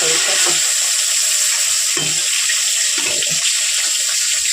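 Pointed gourd being rinsed under a running kitchen tap, a steady broadband rush of water spraying into a sink with faint handling knocks, close and continuous throughout.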